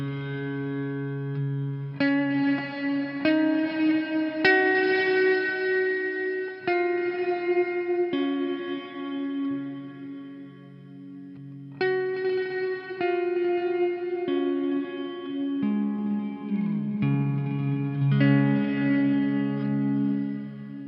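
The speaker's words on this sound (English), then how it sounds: "The diffuse is actually the size of the reverb, or how the reverb spreads out. So we'll go ahead and crank that up." Electric guitar played through an EarthQuaker Devices Afterneath V3 reverb pedal with the diffuse control turned all the way up, sustained chords and picked notes blooming into a wide, washy reverb tail that rings on between phrases, loud and alone.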